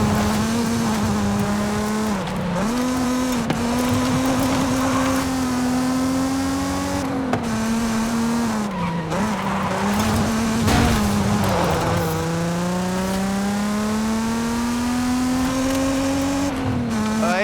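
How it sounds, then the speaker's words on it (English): A Mazda Miata in the Forza Horizon 5 racing game drives through woods at the foot of a volcano, its engine humming steadily and loudly with rises and falls in revs as it shifts gear and speeds up. "We're driving through the spooky woods at the base of La Grande volcano. Why? Who cares? This Miata rules."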